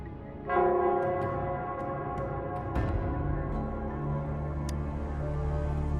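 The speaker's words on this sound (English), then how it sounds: "it's the Nell Squares bell." The Nell Squares bell in the Wuthering Waves video game tolls once, loud and near, then rings on as a long sustained hum that slowly fades, with no voices.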